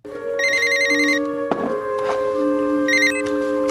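A telephone rings in a TV crime drama scene, two short electronic trilling bursts separated by a pause, clear and fairly loud over a steady background tone with no talk.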